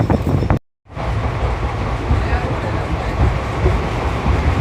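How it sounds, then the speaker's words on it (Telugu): Trains at Nellore railway station make a loud, steady rumble and rattle that runs almost the whole time, after a brief cut near the start. "మనం నెల్లూరు రైల్వే స్టేషన్ అండి ఇది"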